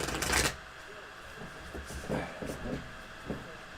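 A deck of playing cards is shuffled at a tabletop game show: a loud riffling burst at the start, then softer scattered clicks and taps as the cards settle, with faint talk nearby.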